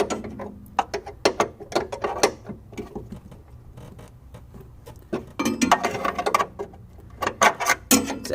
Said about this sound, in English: get your wrench around that, and you can see it's not easy to take off, but once you get it, it should start loosening up